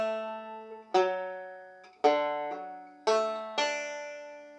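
A handful of plucked banjo notes from the bluegrass reel Saint Anne's Reel, spaced about a second apart, each ringing and fading, quiet and close with no talking.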